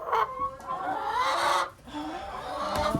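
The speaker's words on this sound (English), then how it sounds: "That chicken's trying to escape." Chickens trying to escape cluck and squawk loudly and close by in a busy, agitated burst, with a brief lull partway through.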